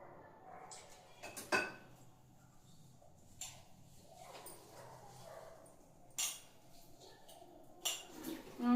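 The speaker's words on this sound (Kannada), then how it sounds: "ಇವಾಗ ಇದಿಷ್ಟು ಪಾತ್ರೆಗಳನ್ನ ತೊಳೆದ್ಬಿಡ್ತೀನಿ" Dishes, steel plates and lunch boxes being washed by hand, with scattered clinks and clatters of metal and crockery, a few sharper knocks standing out over a quiet background and no talking.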